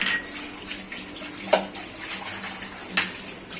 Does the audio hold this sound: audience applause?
no